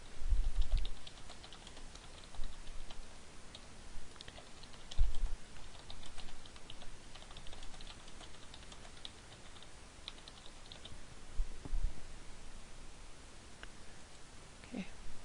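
Typing on a computer keyboard runs steadily for about fifteen seconds, with soft, close key clicks, occasional heavier thumps and short pauses, and no voices.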